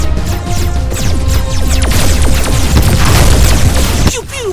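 Dense gunfire and explosions rattle through a battle in the Voltron VR Chronicles video game on PSVR, a loud continuous barrage of sharp blasts and booms that cuts off abruptly near the end.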